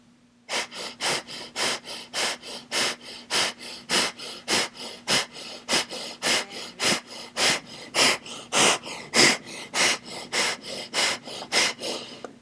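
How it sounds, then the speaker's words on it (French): Powerful, forceful rhythmic breaths in a group meditation exercise, some two dozen sharp, evenly spaced exhalations in quick succession, loud and close with a faint steady hum beneath. "vous n'avez pas suffisamment activé votre respiration. Alors, allez comme ça. Puissamment."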